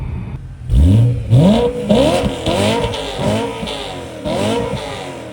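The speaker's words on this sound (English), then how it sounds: "This has the M Performance, I guess, factory titanium muffler on it." A BMW M3 engine revs repeatedly nearby through a factory M Performance titanium muffler, each rev rising and falling with a deep, raspy exhaust note.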